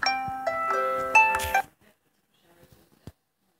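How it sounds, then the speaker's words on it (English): A phone alarm beeps and chimes in a steady electronic melody for about a second and a half before it cuts off abruptly, followed by quiet tapping and faint room noise. "That was my alarm."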